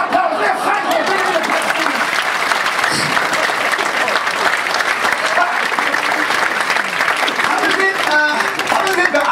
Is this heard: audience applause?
yes